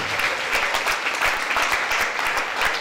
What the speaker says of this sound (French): Acclamez très fort pour Jésus.